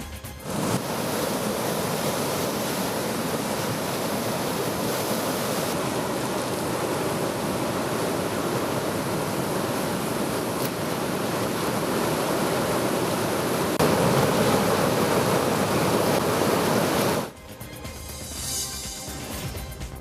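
A loud, steady roar of the Tungabhadra River in flood fills the scene without pause, then drops abruptly to quieter background noise near the end.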